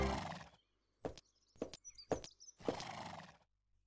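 Horse neighing in the horse riding video game Abenteuer auf dem Reiterhof, a close, clear whinny followed by a few short snorting bursts and another neigh against near silence.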